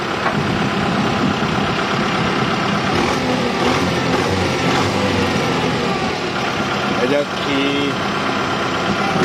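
A steady tractor engine chugs and idles nearby for several seconds, with voices talking over it and a few clinks.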